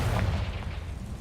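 A short, deep magical blast from the Confringo fire spell in Hogwarts Legacy, a muffled boom with low rumble that fades quickly, heard alone.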